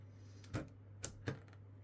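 Memory sticks snap into motherboard slots during a homelab PC build: three sharp, separate clicks spaced about half a second apart, close and crisp over a steady low electrical hum.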